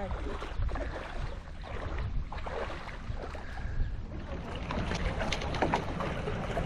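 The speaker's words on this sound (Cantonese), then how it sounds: "風帆啊！" A windsurfing sailboard carrying a passenger off Po Toi Island cuts across the water, with steady splashing and rushing hull noise under gusting wind on the microphone.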